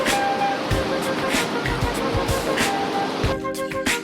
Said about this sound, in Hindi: ये एलिफेंट फॉल में सेकंड वाटरफॉल है और बहुत ही ब्यूटीफुल है।